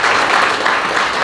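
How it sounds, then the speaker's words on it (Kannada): Audience applause during a public speech, a steady dense wash of many hands clapping at close range for the whole short stretch, loud and unbroken with no voice on top. "ಚಪ್ಪಾಳೆ ಹೊಡಿಬೇಕು ನೀವು"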